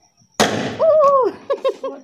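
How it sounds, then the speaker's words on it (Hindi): At a Ghyaras celebration, a small firecracker goes off with one sudden, loud, close bang, followed by shrill wavering tones and a few short bursts. "ये छोटे वाले पटाखे हैं।"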